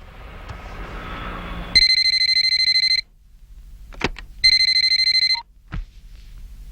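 A telephone in a movie scene rings twice in loud electronic bursts of about a second each, with short gaps and faint knocks between, and no talking.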